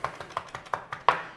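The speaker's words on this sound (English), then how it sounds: "So these are fresh mint leaves, obviously. So we want a little chopping over that." A knife chops fresh mint leaves on a board in a steady run of about eight light, crisp taps, close and even in pace, with no talking.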